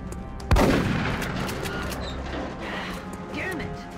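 A single sharp, loud gunshot in XCOM rings out early and is followed by a long decaying echo, with a low background hum and a few faint distant tones afterward.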